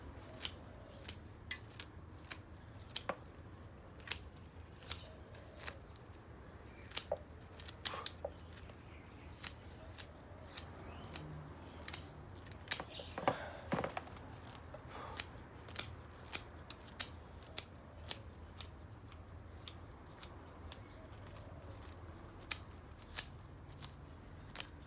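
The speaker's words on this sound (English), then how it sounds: "Sharp scissors is very important." Sharp, thick scissors snipping the roots of a trident maple bonsai during repotting: crisp metallic cuts in an irregular rhythm, close and distinct over quiet background with faint rustling.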